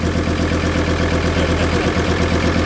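A VW T4 van engine idles steadily through a full exhaust with a deep, even rumble, loud and close, running without a break until it cuts off at the very end.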